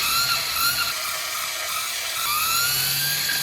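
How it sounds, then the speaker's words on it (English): Chain drive of an 8000-watt, 60 mph electric bike, a loud high-pitched mechanical whine that dips briefly in the middle and then rises again, steady and close with no speech. "that chain, it's pretty loud"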